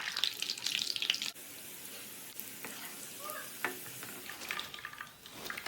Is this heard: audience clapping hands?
no